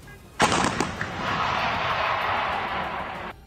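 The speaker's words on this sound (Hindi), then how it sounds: "एक एक करके कई तोप से गोले छोड़े गए, जिनके धमाकों से पूरा इलाका थर्रा उठा।" Artillery guns fire shells in a war zone in Ukraine, a sudden loud blast followed by a long rumbling roar that stays heavy for about three seconds before cutting off, with no voices.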